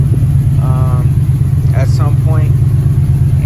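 A 1995 Chevrolet Impala SS V8 idles close by with a steady, low, even rumble, while someone talks over it.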